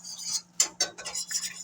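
Soup is whisked in a pot: several quick metallic scraping and clinking strokes of a whisk against the pot, close and fairly quiet, in short bursts.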